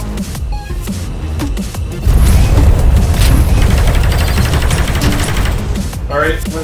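Rapid machine-gun bursts from a SteamVR shooter game crackle loudly and continuously, with denser firing through the middle and tapering near the end.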